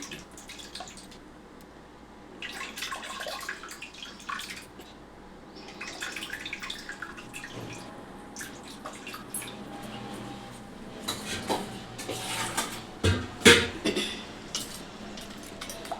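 Tamarind juice being poured into a simmering pot of Telangana-style pappu charu, with soft liquid drips and splashes, light clinks of utensils and pots, and a few sharper clatters near the end, all close by with no talking.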